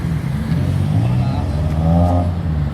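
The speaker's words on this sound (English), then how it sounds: "GTR's coming." Nissan GT-R sports car arriving at a cars and coffee meet, its engine revving up loud and close in a rising, throaty growl.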